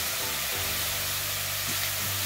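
Partly frozen ground meat for tacos frying in a pan makes a soft, continuous sizzle with a low hum beneath it, fairly faint and steady, with no talk.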